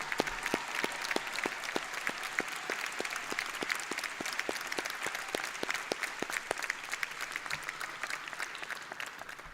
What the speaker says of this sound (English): may you please rise and accept the students' recognition and applause.